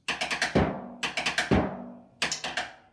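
Percussion drumstick pattern of five quick taps with a bass drum thump landing on the fifth, repeated in three close, crisp bursts without any talking.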